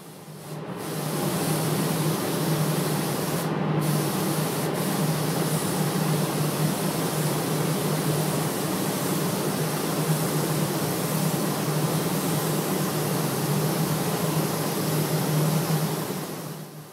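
A spray gun lays ceramic clear coat onto a car in a booth, giving a steady close hiss of airflow that runs unbroken for most of the stretch and trails off at the end, with no talking.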